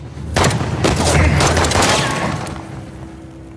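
Gunfire in the game Uncharted: The Lost Legacy, a loud burst of rapid shots and booms that swells, then fades into a lingering tail.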